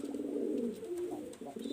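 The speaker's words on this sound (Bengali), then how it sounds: "এখানে দেখেন 2টা ফিমেল কবুতর আমি দেখাচ্ছি" Two female Kaldum pigeons give a soft, low cooing, a brief murmuring coo that rises and falls quietly, close by.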